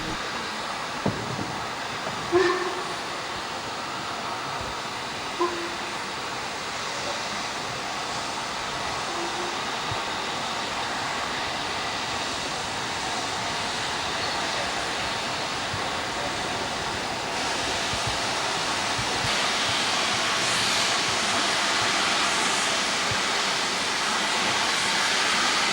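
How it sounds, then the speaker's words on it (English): Double-headed Black 5 and 4F steam locomotives hauling a freight train on a heritage railway at Bury, a steady broadband rumble and hiss that swells louder toward the end, with a couple of faint knocks early on. "Our final freight of the day was to be double-headed Black 5 and 4F."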